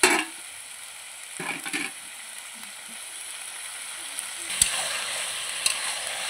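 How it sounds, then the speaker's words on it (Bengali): Spiced meat cooking over a village-style clay stove outdoors gives a faint, steady sizzle and frying hiss, with a couple of soft clatters of stirring or utensils partway through. "উনানে রান্না করছি"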